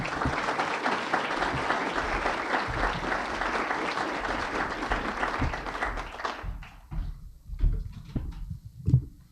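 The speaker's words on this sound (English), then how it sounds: "I am very suspicious of an audience that applauds a speaker before he has spoken." Audience applause greets a retired Wharton School professor at a morning talk, a dense steady clapping that thins out and fades into a few scattered claps and knocks near the end.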